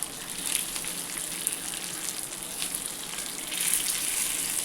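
Fish shallow-frying in hot oil on a flat pan over a medium gas flame gives a steady, dense sizzle that holds throughout, swelling slightly louder near the end, with no talking.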